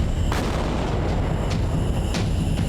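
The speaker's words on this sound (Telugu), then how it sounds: "సరే, నా బాంబు నుంచి ఎలా తప్పించుకుంటారో చూస్తాను." Cartoon bomb going off in an animated children's show, a dense rumbling blast with a series of sharp booming bursts roughly every half second to second, loud and continuous.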